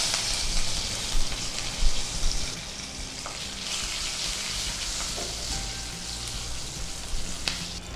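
Fresh herb leaves hit hot tempering oil after turmeric powder for a yogurt-based curry, giving a steady, close sizzle and crackle that swells in the first seconds, then settles into an even frying hiss with a few sharp pops.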